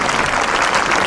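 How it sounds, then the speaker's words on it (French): Brief burst of audience clapping during a farewell speech, a dense, even wash of applause lasting about a second. "Vous pouvez applaudir quand même de temps en temps"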